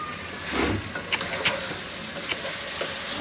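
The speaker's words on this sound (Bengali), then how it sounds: "টমেটো গলানোর কিছু নাই, জাস্ট একটু ভাজা ভাজা হইলেই হবে।" Potatoes, tomatoes and chilies fry in a pan for an aloo biriyani, giving a steady close sizzle with a few brief clicks of stirring throughout.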